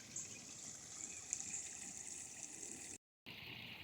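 Water trickles quietly from a backyard pond waterfall fed by a pump, a soft, continuous splashing with a brief gap of silence near the end.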